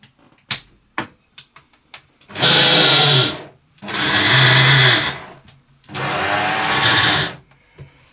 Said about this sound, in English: So I'm putting the flour and the cinnamon into the processor, and I'll just give that a quick blitz